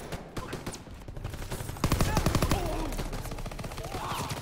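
Rapid bursts of gunfire aimed at the player in the World War II shooter game Call of Duty WWII, dense automatic fire that grows heavier partway through.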